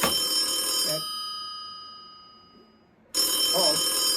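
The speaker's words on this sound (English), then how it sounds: "phone's ringing" A telephone rings in two loud bursts of bright electronic trilling separated by a couple of seconds of quiet, each ring close and clear.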